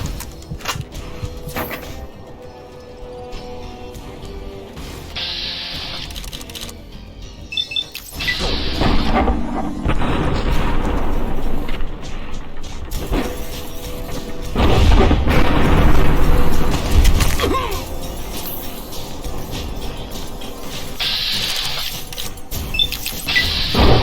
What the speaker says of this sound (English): I decided to put the mercenaries' grenade rifle to the test.